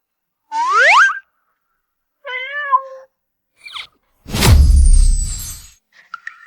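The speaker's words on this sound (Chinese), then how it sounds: "这只橘猫和当年你送我的那只简直长得一模一样" An orange cat meows a few times, short rising and falling cries, close and clear, in a quiet space between other sharp sound effects.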